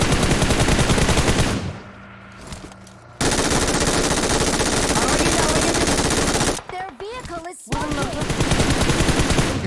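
Continuous loud bursts of automatic gunfire in PUBG Mobile, pausing briefly twice, with voices faintly underneath.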